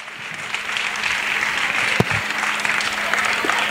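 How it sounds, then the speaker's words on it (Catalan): An audience at a country dance competition applauds steadily, a dense wash of clapping hands that holds at an even level throughout. "un aplaudiment per aquest jurat"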